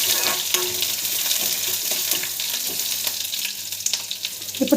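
Ginger garlic paste frying in hot oil with curry leaves, a dense, loud, continuous crackling sizzle close to the pan with faint stirring and no talk.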